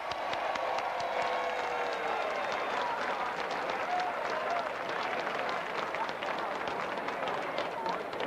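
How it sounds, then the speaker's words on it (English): A large convention crowd at the 1988 Democratic National Convention claps and cheers for the volunteers, a steady, distant roar of applause holding evenly for over eight seconds, fairly faint. "Let's hear a cheer, a rousing cheer, and a warm round of applause for the unsung heroes of our convention, the volunteers."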